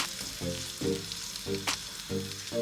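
Egusi and spinach stew stirred in a pot, a steady close sizzle broken by a regular series of low scraping strokes, with one sharp clink partway through.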